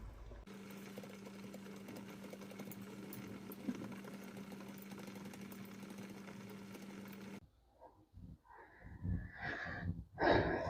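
A food dehydrator drying vegetable scraps hums steadily at a low level, then switches off abruptly, leaving quiet handling sounds and rustling.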